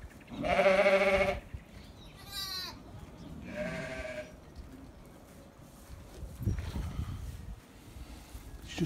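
Shetland sheep and lambs bleat during lambing on a Pembrokeshire farm, a loud close bleat opening the stretch, then several shorter wavering calls that fade to fainter bleats over a quiet barnyard background.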